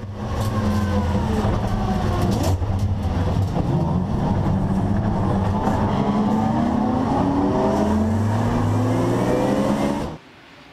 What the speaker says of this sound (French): Un envol que l'on revit depuis l'habitacle de la BMW M3 GT4